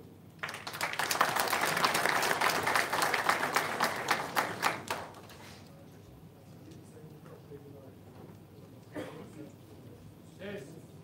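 Audience applause at a federation general assembly, dense clapping that swells quickly and fades after about five seconds, followed by quiet room noise with a few faint sounds.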